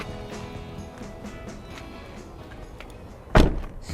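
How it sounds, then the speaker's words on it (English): Sliding door of a 2012 Chevy Express extended cargo van slams shut with a single sharp, solid thunk near the end, after a few seconds of quiet ambient noise. "Solid sliding door."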